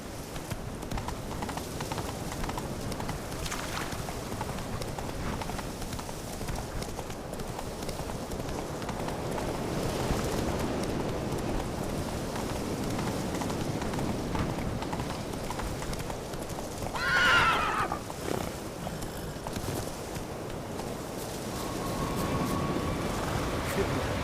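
Hooves of Geralt's horse Roach drum in a steady clip-clop gallop across open ground in The Witcher 3: Wild Hunt, with a brief whinny partway through and game ambience and faint voices underneath.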